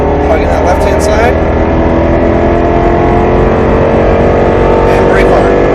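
A Roush Mustang RS3 roars loudly and continuously on a track at Speed Vegas, its engine note climbing and shifting as it accelerates, with a voice talking over the engine.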